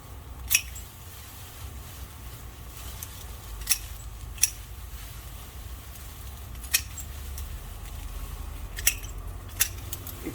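Cutting back overgrown ornamental grass near a barberry shrub outdoors, with sharp isolated snips at irregular intervals against a steady low rumble.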